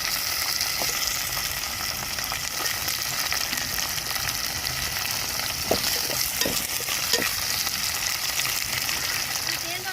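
Garlic, shallots and tomato fry in a pan with a steady, dense sizzle throughout, broken by a few brief clinks and scrapes of a stirring utensil near the end.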